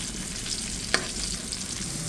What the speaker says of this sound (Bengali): এদিকে পেঁয়াজ কলিটা ভাজা হয়ে গেছে,